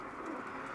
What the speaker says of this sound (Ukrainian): Оцей голуб, воно ярить.